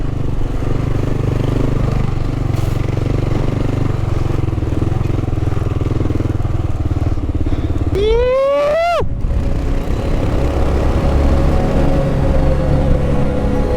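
A Kawasaki KLR650 single-cylinder motorcycle thumps along steadily, then the throttle is opened for a brief rising rev that quickly drops back to a loud, close, continuous drone with wind noise.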